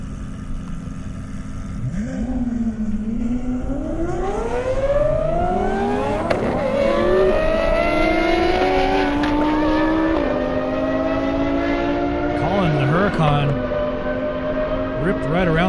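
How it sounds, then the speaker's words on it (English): A Lamborghini Huracán of about 1400 horsepower roars close and loud at an Indiana airstrip drag event, its pitch climbing steeply through several gear shifts as it accelerates hard. "Colin in the Lamborghini Huracan, 1400 horse."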